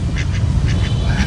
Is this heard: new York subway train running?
no